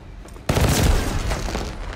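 Gunfire using a fireworks tracer effect in a Call of Duty video game hits as a sudden loud burst about half a second in, followed by a crackling, booming tail that slowly fades.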